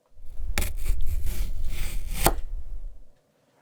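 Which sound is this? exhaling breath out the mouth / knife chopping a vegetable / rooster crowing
knife chopping a vegetable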